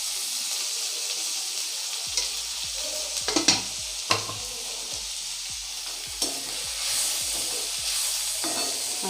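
Onion sautéing in oil fills the air with a constant hiss, while a utensil scrapes and taps the pan in repeated strokes through the middle of the stretch. Nobody speaks.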